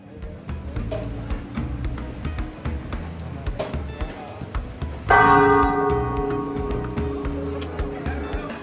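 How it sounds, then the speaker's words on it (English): Church bells ring in Puerto Vallarta, Mexico, a bright, sustained peal swelling in partway through and lingering over street bustle, traffic and background voices. "we arrived just in time for the ringing of the church bells"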